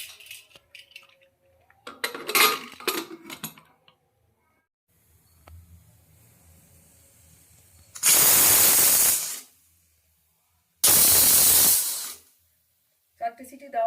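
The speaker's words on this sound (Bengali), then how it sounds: "ওর মধ্যে দিয়ে নাড়িয়ে দিয়ে 4টে সিটি দিয়ে আগে সেদ্ধ করে নেব" A pressure cooker boiling arhar dal lets out two loud, sharp whistles, each a sustained hiss of a couple of seconds, after quieter kitchen clatter and murmuring.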